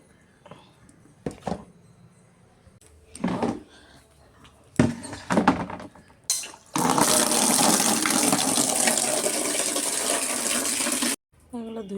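Water poured off soaked flattened rice (chira) in a home kitchen. A sustained loud rush of draining water runs for about four seconds after several short clatters and splashes.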